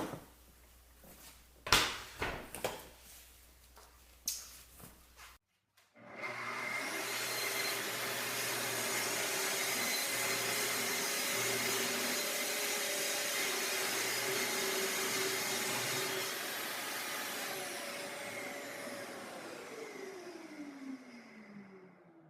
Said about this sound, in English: you're just able to easily rip this piece of plywood